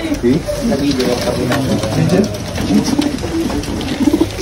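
Pigeons coo in low, rolling warbles, close and continuous, layered over a constant background rumble with people talking nearby.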